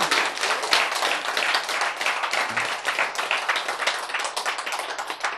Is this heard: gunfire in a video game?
no